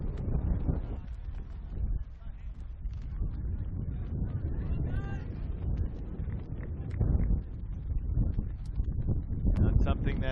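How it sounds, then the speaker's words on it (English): Strong wind buffets the microphone on a beach during an ultimate frisbee match between Germany and India, a loud low rumbling roar throughout with someone speaking over it. "And the wind even more furious than before."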